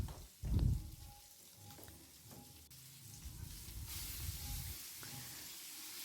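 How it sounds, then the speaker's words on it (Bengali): Fish pieces fry in a pan while spiced masala cooks alongside. A quiet, steady sizzle and hiss follows a soft clunk near the start. "আর মাছগুলো এদিকে দেখুন ভাজা হয়ে যাচ্ছে"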